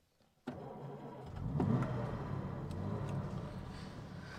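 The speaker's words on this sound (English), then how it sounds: "That straight six sounds fabulous." A Jaguar MK2's straight-six engine runs steadily close by, swelling briefly as it revs, then settling into a smooth, continuous drone.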